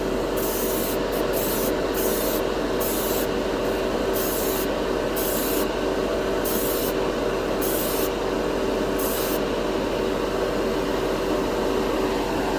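An airbrush spraying Mr. Crystal Color metallic paint as a dry base coat gives a steady close hiss, with regular short bursts of sharper spray over a constant low hum of the compressor.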